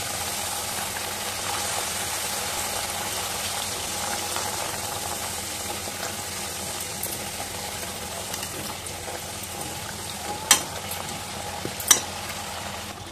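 Pieces of dough made from jowar, rice, gram and wheat flour fry in hot oil with a steady, even sizzle that fills the clip, broken by two sharp clicks near the end.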